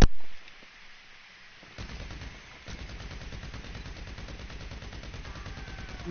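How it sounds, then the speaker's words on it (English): A video game minigun fires a long, continuous, rapid rattle of shots. The burst starts after a brief quieter moment and holds steady and loud to the end. "Minigun, baby."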